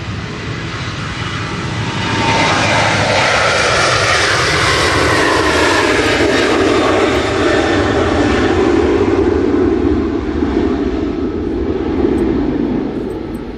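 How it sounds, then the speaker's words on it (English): A British Airways Airbus A319 arriving from London Heathrow lands at windy Manchester Airport, its jet roar swelling loud and broad, holding steady, then easing slightly as it passes, with wind noise underneath. "It's an A319 coming in from London Heathrow."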